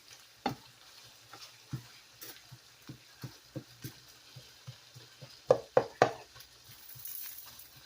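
Meat frying in a home kitchen pan gives a low steady sizzle broken by regular sharp taps and scrapes of stirring, with a cluster of louder clinks near the end.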